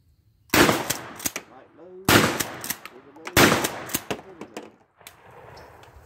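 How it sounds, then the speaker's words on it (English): A semi-automatic shotgun firing heavy load shells booms three times in close succession, each loud blast followed by a ringing tail and the clack of the action, then a softer fourth report. "I gotta try that semi-auto again, because I've had some bad luck with it not wanting to cycle heavy load shells."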